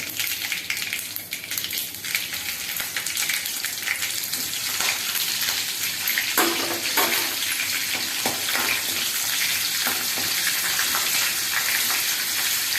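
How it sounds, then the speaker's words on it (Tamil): Green chili and mustard seeds frying in oil in a pan, a steady close hiss and crackle of sizzling with small pops, continuing loudly throughout with no talk. "ஒரே ஒரு பச்சை மிளகாயை கிள்ளி போடுறேன்"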